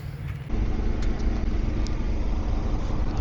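A car engine running as the vehicle pulls away, a steady low rumble of road and motor noise that rises after half a second and holds evenly, with no speech.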